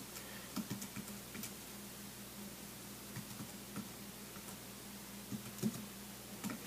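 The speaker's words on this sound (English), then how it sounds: "So I typed that just by touch." Quiet, irregular clicking of keys being tapped on a keyboard, soft and close, with a steady background hiss and no voices.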